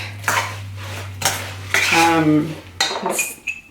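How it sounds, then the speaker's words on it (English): A utensil stirs BBQ green beans in a bowl, giving clinking metal-on-dish knocks and scrapes in short bursts against a low steady hum, with a brief ringing tone near the end. "And give it a good mix too, so that everything's incorporated."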